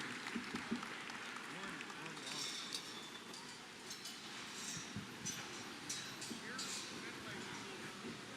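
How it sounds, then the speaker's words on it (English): Applause from the crowd at an Easter beef cattle sale, faint and continuous with scattered claps over a low background murmur. "Deserves a big round of applause"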